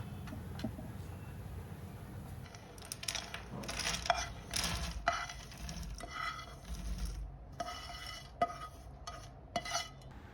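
Golden-brown roasted dry fruits are scraped and tipped from one pan into another in a home kitchen. Quiet metallic clinks, spoon scrapes and rattling pieces come in irregular bursts with short pauses between them.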